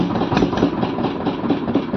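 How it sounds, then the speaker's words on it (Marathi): A fishing boat's engine runs steadily on open water heading out to sea, a continuous mid-low droning hum with a slight throb, close and fairly loud, with no voices over it. "आता आपली होडी चालली मासेमारी करण्यासाठी दर्यात"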